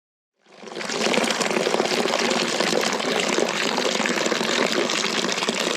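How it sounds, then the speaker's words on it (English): Steady rushing gush of water from a flowing well in the woods near a river, starting after a brief silence and continuing loud and constant without any talk. "Incredible to see this flowing well."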